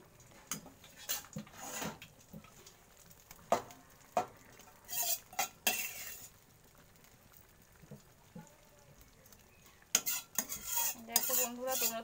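A tempering of spices goes into khichuri made with Gobindobhog rice, moong dal, cashews, raisins and ghee, with a spoon scraping and clinking against the pot in scattered bursts over a faint low sizzle.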